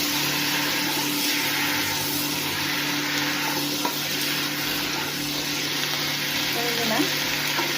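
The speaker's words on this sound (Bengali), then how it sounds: "এই পর্যায়ে আমি দিয়ে দিচ্ছি নাড়াচাড়া করতে হবে ছোটো ছোটো" Pieces of ash gourd with turmeric fry in a pan, a continuous close sizzle with occasional soft scrapes and clicks from stirring.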